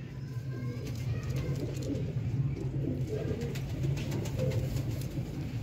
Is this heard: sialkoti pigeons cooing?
yes